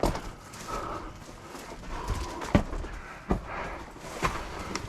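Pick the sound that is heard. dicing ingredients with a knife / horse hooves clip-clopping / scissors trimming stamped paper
horse hooves clip-clopping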